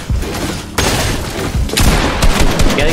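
Rapid bursts of gunfire from the Fortnite video game, with loud overlapping shots and booms cutting in abruptly and continuing densely throughout.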